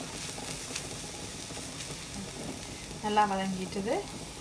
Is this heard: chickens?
no